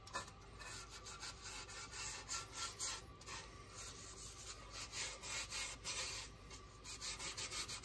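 An old t-shirt rubs wood stain onto the sides of a paulownia guitar body in dark midnight blue, making a close, steady scrubbing and swishing in repeated strokes with no talk.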